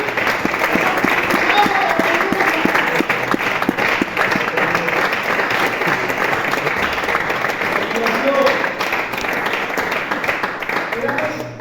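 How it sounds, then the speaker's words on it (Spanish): A congregation at a Spanish-language youth church gathering applauds steadily for about twelve seconds, a dense, even wash of clapping that stays loud throughout with faint voices mixed in. "¿Cuántos dan un aplauso a ese Jesús?"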